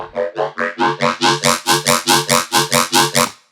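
A Serum square-wave riddim synth bass with reverb on its high end pulses in a steady run of about fourteen short, evenly spaced notes, each with a bright, airy top end, ending with a brief tail.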